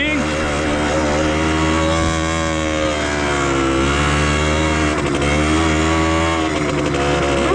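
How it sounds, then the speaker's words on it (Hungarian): Small Simson moped engine running steadily while riding along a field edge past corn, a continuous buzzing drone held at an even pitch, close and loud throughout. "Nagyon jó megy a kis motor,"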